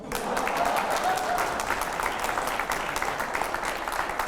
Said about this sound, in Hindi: तालियां थोड़ी कम पड़ चुकी हैं।